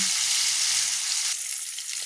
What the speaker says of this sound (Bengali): তবে মাছটাকে আমি একটু লাল লাল করে ভেজে নিচ্ছি।